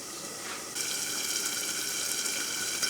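Chicken fries in a covered pot over low heat; after a brief quiet moment a steady, even sizzling hiss sets in and carries on, with no voices.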